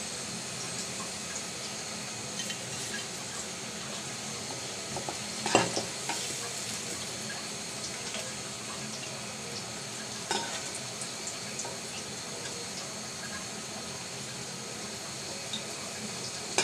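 Potato and bitter gourd slices frying in oil in a pan, a steady close sizzle with occasional stirring scrapes, continuous with no talking.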